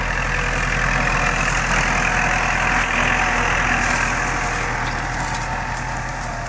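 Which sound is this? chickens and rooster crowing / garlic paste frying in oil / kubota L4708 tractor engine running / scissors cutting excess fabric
kubota L4708 tractor engine running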